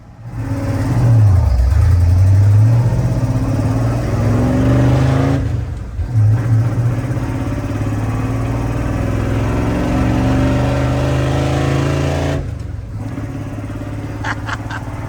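A loud pickup truck engine, with a faulty coolant thermostat, revs hard on a freezing cold day, its pitch sweeping up and down, then settles into a steady rumbling idle with brief dips in between.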